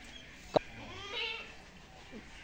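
A goat gives a single short, close bleat, followed by fainter murmuring against a steady background hiss.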